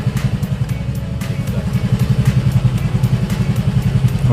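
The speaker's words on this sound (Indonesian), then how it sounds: "Motor sengaja saya hidupin supaya baterai nggak drop." A Yamaha Fazzio scooter engine idles up close, giving a steady rhythmic low putter with a fast, even pulse and slight mechanical clatter, and no voices over it.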